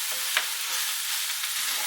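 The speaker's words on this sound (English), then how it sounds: "I'm now going to stir and fry that to relax it and to make the onions translucent" Chopped onion and garlic sizzle steadily in leftover meat fat while being stirred in a pot for Polish bigos, a soft continuous frying hiss with faint scraping of the spoon.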